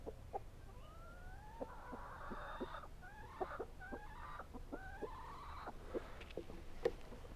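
Backyard chickens, hens with a rooster, cluck softly in a series of short murmured calls and rising trills, fairly close but quiet over faint background noise.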